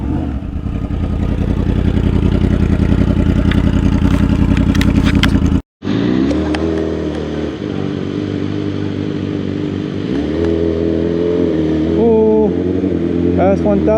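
A Suzuki GSX-R1000 motorcycle with an SC Project exhaust roars loudly and steadily close by, cuts out briefly, then rumbles back with rising revs, and people talk over it.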